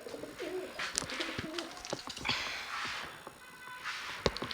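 A pet pigeon coos nearby in soft, low, repeated calls, mixed with light chirps and some rustling.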